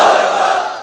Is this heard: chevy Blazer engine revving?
no